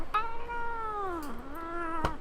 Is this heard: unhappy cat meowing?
yes